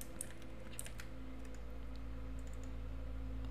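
Rapid keystrokes tap on a computer keyboard, naming a new folder: a quick, quiet run of light clicks over a faint electrical hum, with no voices.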